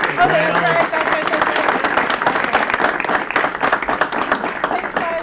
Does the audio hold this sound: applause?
yes